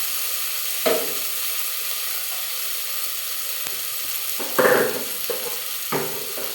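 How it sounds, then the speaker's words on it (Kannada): Sprouted beans fry in oil, giving a steady sizzle with a few sharp scrapes and clinks as they are stirred. "ಅದನ್ನು ಕೂಡ ಹಾಕ್ಕೊಂಡು ಚೆನ್ನಾಗಿ ಎಣ್ಣೆಲಿ ಹುರ್ಕೋಬೇಕು"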